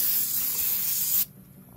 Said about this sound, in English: So we're just going to spray them down